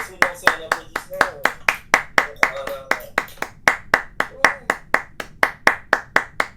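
Sustained clapping over a voice chat, a long even run of sharp, close hand claps at a brisk regular pace, with a voice murmuring beneath at the start.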